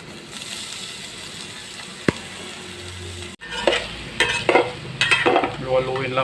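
Onions land in a frying pan with ginger, the quiet pan suddenly bursting into loud crackling sizzle that continues with spatula scrapes, close up.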